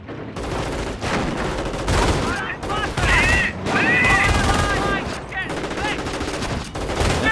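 A half-track's machine gun in the World War II strategy game Company of Heroes fires in sustained close bursts, with rifle shots and battlefield noise mixed in. Short voice barks come through over the gunfire.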